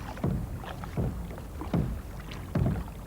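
A C1 canoe in a wild water race, driven by a single paddle, with four rhythmic, evenly spaced strokes splashing through rushing water close by, steady surging flow between them.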